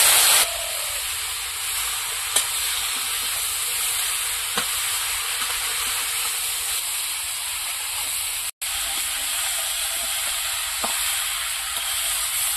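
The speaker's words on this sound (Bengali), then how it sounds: "সবজিটা এবার ভালো করে কষিয়ে নেবো। নাড়াচাড়া দিয়ে লবণ হলুদ গুলো সবজিতে ভালো করে মিশিয়ে নেবো।" Cauliflower and other vegetables fry with salt and turmeric in a steady, close, even sizzle, broken by a few brief stirring clicks and one short dropout.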